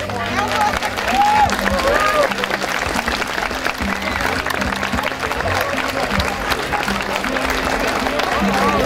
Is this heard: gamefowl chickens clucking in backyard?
no